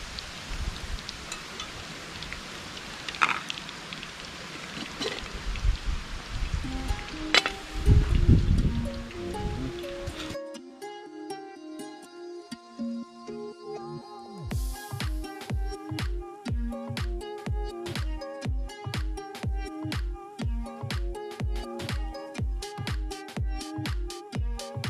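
Okra frying in an overcrowded pot crackles with a dense, rain-like sizzle for several seconds before rhythmic background music takes over.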